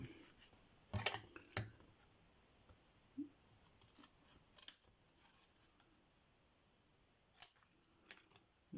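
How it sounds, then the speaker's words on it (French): Scissors snipping paper while making a birthday lollipop holder, a few soft, close, irregular cuts and rustles separated by quiet pauses. "Je vais le couper."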